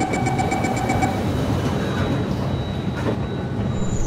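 A video game train runs continuously, its rumbling rail and wheel noise steady and fairly loud, with a brief high squeal near the start and no talking.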